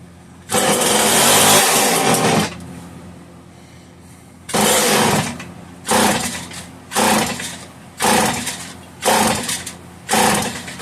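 A Homelite 150 chainsaw on full choke gives one long, loud burst of running, then falls silent and fires again in five short, regular bursts that sputter and die each time.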